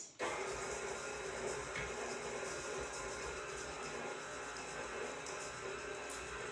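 A KitchenAid stand mixer starts abruptly and runs steadily, mixing ingredients with a continuous, even motor whir that holds at a constant level throughout.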